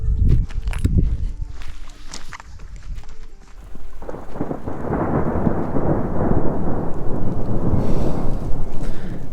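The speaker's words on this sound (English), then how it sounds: "thunderstorms are always so powerful here on the mountains, and it echoes in the valleys" Thunder rumbles and cracks through the Pyrenees mountains, rolling and echoing in the valleys, with a first heavy burst giving way to steady rain and a continuous low roar, loud and close.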